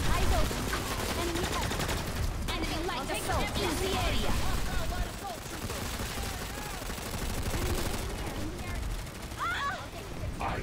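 Rapid automatic gunfire and bursts of shots in a Planetside 2 battle around a building, steady crackling volleys under overlapping voice chat from several players.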